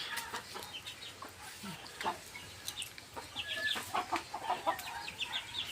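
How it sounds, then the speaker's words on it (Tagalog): Several chickens cluck and chirp in quick, uneven bursts at a moderate distance, a busy farmyard chatter with no clear speech. "Ang dami pang manok."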